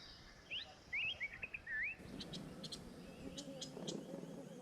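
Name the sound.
birds gathering at a forest waterhole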